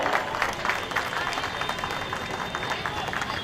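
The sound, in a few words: loud applause for a drawing competition prize winner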